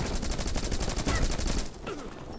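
Rapid automatic gunfire rattles in Rocketbirds: Hardboiled Chicken, a fast steady burst of shots lasting about a second and a half before cutting off, leaving quieter background game noise.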